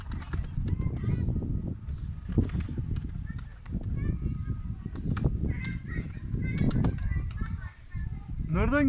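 Seagulls call in repeated bursts around a woman feeding them, their cries rising over steady outdoor background noise and chatter, with a loud squawk close by near the end.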